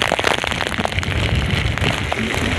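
Heavy monsoon rain lashing down at sea during a storm, a loud, dense roar of pouring water and crashing waves with constant hissing and splashing close by, no voices.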